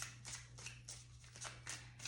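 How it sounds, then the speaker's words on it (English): Tarot cards being shuffled by hand, a quiet series of soft riffling swishes in short repeated bursts over a low steady hum. "So let's shuffle the cards"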